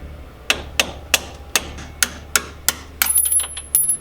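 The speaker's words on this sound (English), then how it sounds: "I don't have any punches, so, and just hammer it out." Sharp metallic hammer strikes on a Subaru CV axle retaining pin, about eight blows in a steady rhythm, close and loud, followed by a few quicker lighter taps and a faint ringing tone.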